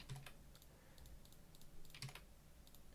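Soft, quick keystrokes on a computer keyboard come in scattered bursts while a code comment is typed, quiet and close over a steady background hiss.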